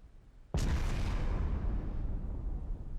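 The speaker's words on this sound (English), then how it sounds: "I don't know what that explosion is." A torpedo strikes a ship in the submarine video game Silent Hunter 4: after a quiet half second, a sudden deep explosion bursts out loud and heavy, then rumbles on for a long, slowly fading tail.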